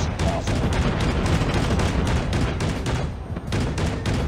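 Heavy gunfire aimed at a VTOL aircraft in COD Mobile, a continuous loud barrage of rapid shots and booms that rattles on with barely a pause, one short dip near the end.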